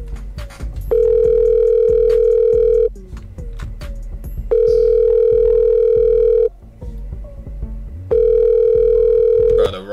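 A phone rings in the Roblox video game with long, loud, steady ringback tones. Three tones repeat at regular intervals, with short gaps of background chatter and clicks between them.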